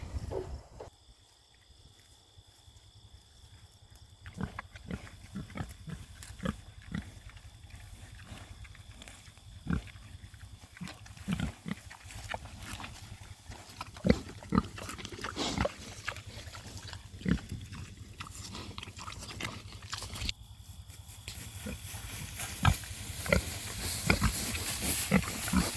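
Pastured pigs grunt and snuffle continuously nearby while being moved, with scattered squeals and rustling, growing busier and louder toward the end.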